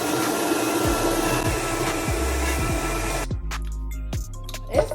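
A blender mixes a banana smoothie, whirring loudly and steadily for about three seconds with some low thumps from the jar. It then stops and leaves faint background sounds and a small knock.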